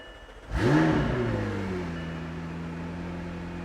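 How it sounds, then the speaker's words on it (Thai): A McLaren 600LT fires up with a sudden loud starter catch and a sharp rev flare, then drops into a steady, rumbling idle that slowly settles; no speech. "สตาร์ทคือเหยียบเบรก ครับ พุชสตาร์ทตรงนี้"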